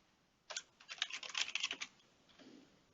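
Rapid typing on a computer keyboard while writing R code, a close, dense run of key clicks lasting about a second and a half, then a softer trailing rustle.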